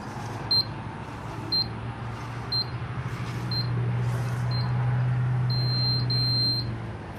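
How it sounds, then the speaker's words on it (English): A geophysical logger running in auto mode gives short, high electronic beeps at regular intervals of roughly a second, ending in a longer sustained tone, over a low steady hum from the equipment. "Listen for the beeps."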